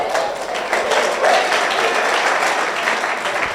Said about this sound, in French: Ok, on acclame pour elle, on acclame.